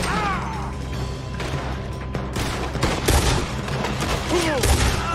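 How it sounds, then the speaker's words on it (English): A loud gunfire shootout in Red Dead Redemption 2, with repeated overlapping shots and crashes building in intensity, and voices shouting over the fighting. "Looks like we're shooting our way out of here, fellas!"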